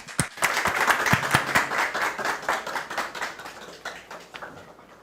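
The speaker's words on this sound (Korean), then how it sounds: "우리 박수로 모시겠습니다." A church congregation at a missionary worship service applauds to welcome a pastor, brisk, crisp handclaps rising quickly then gradually thinning and fading toward the end, with no talking over them.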